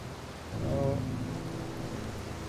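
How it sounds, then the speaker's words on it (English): Steady rain in the video game Outer Wilds hisses with a low rumble swelling in early on, a continuous wash of noise with no voices. "The hor the horizontal rain is also pretty awesome."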